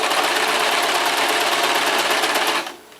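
A sewing machine stitches fabric strips for a braided bath mat, running as a steady, fast mechanical whir with rapid needle ticking, close and loud, then stopping abruptly near the end.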